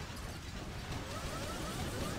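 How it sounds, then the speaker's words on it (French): An explosion from a destroyed cannon in the mobile strategy game Boom Beach sounds as a dense, noisy rumbling burst with mechanical clatter, steady and fairly loud, with no talking. "Voilà, le canon détruit."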